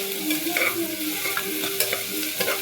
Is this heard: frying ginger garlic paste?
yes